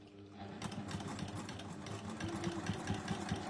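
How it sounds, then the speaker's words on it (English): A sewing machine stitching interfaced fabric pieces runs in a steady, rapid mechanical chatter, fairly quiet and close, continuing evenly without pause. "and then we're going to sew on the line."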